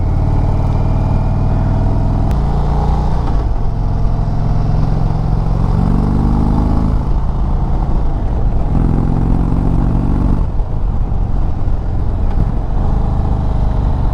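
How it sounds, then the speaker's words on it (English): A 2023 Indian Chieftain Dark Horse motorcycle engine rumbles steadily through curves, its low throb rising and falling as the rider rolls on and off the throttle, loud and continuous with wind noise throughout. "Bike sounds amazing. Lots of power when you're ripping through these curves and pulling out on the other side."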